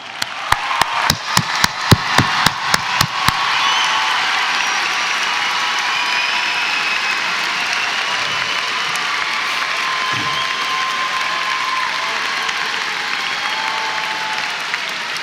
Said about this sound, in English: Let's applaud for everyone.